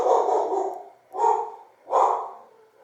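Three bursts of dog barking, the first long and the next two shorter and spaced apart, from dogs guarding a house as neighbours ride bikes past out front; loud and close with no talking.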